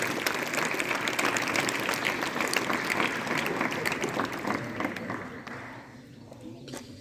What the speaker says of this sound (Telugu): అందరూ గట్టిగా చప్పట్లు కొట్టాలని తెలియజేస్తూ ఉన్నాను